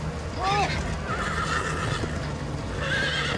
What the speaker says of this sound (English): Quick, grab the horses! We're gonna ride them out of here.